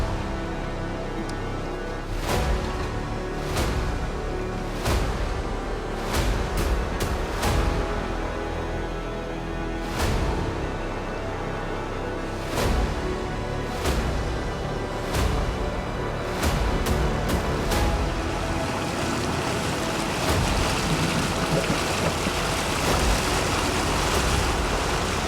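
Off-road vehicle pushing through a murky swamp at the edge of an overgrown trail, a steady loud rush of churning water and wind-buffeted noise with scattered sharp splashes and knocks throughout.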